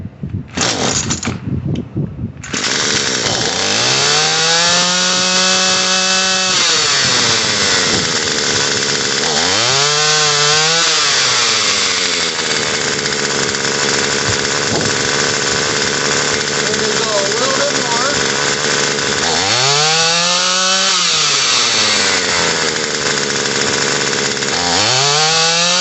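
A Murray M2500 gas string trimmer engine runs loud and continuous after a carburetor adjustment, with a brief sputter at the start, then steady buzzing with repeated revving swells rising and falling in pitch.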